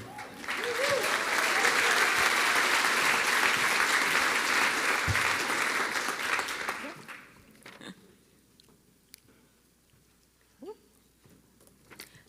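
Audience applause at an awards ceremony fills the room for about seven seconds as a sponsor is welcomed back to the stage, then trails off into scattered claps and quiet room noise.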